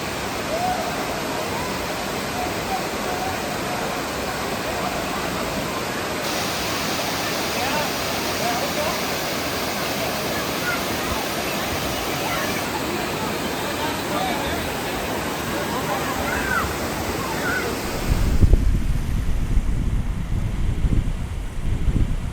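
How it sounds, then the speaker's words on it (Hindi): Water from the hills pours down a small natural waterfall near Tamhini Ghat in Maharashtra, giving a steady, dense rushing hiss throughout. A louder burst of wind-like buffeting comes near the end, and a voice may talk over it. "छोटा सा वाटरफॉल है ये, और ये नेचुरल वाटरफॉल है, ऊपर से पहाड़ों का पानी आता है"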